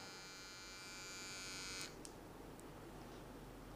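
A VGR zero-gap beard trimmer runs continuously with a steady, faint high-pitched electric buzz, close up, a small click near the middle, and no talk.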